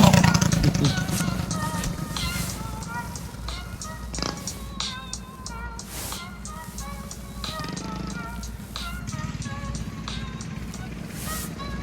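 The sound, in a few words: Coleman BT200X minibike with Predator 212 hemi engine riding by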